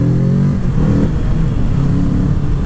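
A 2019 Kawasaki Z650 middleweight parallel-twin motorcycle engine pulls hard under acceleration, a loud, close, steady growl with rising harmonic tones and no talk.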